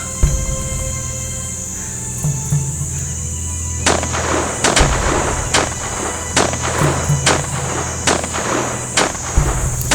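Gunfire in a French-language drama scene, a series of sharp loud shots spaced roughly half a second apart over a steady background hum, fairly close, with no talk during the shooting.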